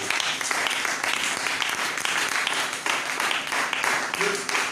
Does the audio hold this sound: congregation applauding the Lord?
yes